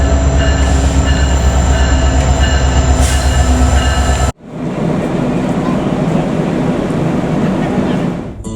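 A passenger train bound for Anchorage, Alaska rumbles along with a steady, loud rolling noise and faint wheel squeal, then the sound abruptly shifts to a darker, broadband hum as if moving to another stretch of track.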